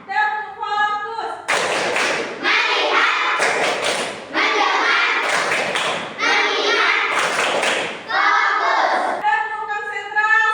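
A class of children clapping out a rhythm, several loud bursts of claps alternating with group chanting in the room.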